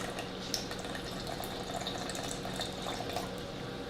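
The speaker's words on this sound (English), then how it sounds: "I am going to add in some beef broth as well." Beef broth poured into a pot of venison barbacoa, a soft, steady liquid trickle and splash running continuously at low volume with no talking.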